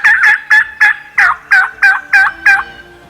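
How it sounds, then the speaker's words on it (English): A wild turkey gobbler in the Ozark Hills calls with a rapid series of loud, close, warbling gobble notes, about ten evenly spaced pulses with no other sound. "Gobblers sounded off all around us throughout the Ozark Hills"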